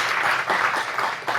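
An audience at a Korean church art-mission gathering claps warmly in steady, sustained applause that fills the room, with no voices over it.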